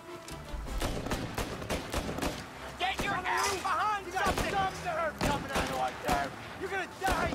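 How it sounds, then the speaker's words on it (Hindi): Gunfire in the video game Mafia: Definitive Edition cracks in repeated sharp bursts at an irregular rhythm while voices talk over the action. "वो गोली चल रही है."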